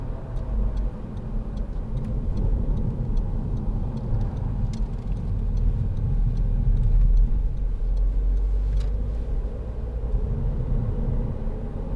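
A 2010 SEAT Leon 2.0 TD FR diesel hatchback cruising in third gear along a country lane, with a steady low engine and road rumble heard from inside the cabin, plus faint light ticking throughout.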